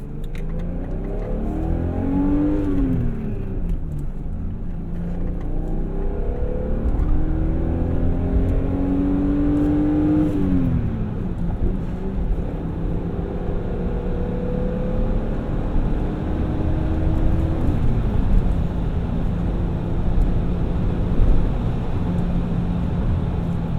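A 1980 BMW 733i pulls out under way, its engine revving steadily with rising and falling tones as it shifts through gears, loud and close for the whole stretch with no talking.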